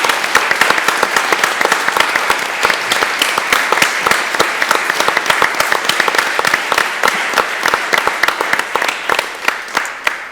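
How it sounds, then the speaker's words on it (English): Conference audience clapping in a steady, dense round of applause that lasts the whole stretch, loud and even with no talk over it. "they really deserve a round of applause by the audience"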